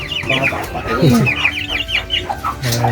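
A young rooster on a Cornish chicken farm gives a series of loud, close, throaty clucks in uneven bursts, with people talking faintly in the background.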